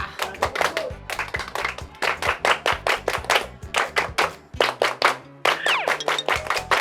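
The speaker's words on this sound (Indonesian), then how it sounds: "Tepuk pramuka." Children perform the Indonesian scout clap, tepuk pramuka, at a children's playground: sharp, loud hand claps in a brisk, patterned rhythm with short pauses between groups, close by and mostly free of talk.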